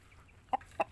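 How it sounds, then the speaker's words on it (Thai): Two short, clear clucks from an Indonesian black chicken rooster kept at a rural Thai home, spaced apart over a faint background. "ไก่ดำสายพันธุ์อินโดครับ อันนี้ไก่ตัวตัวผู้ครับพี่น้อง"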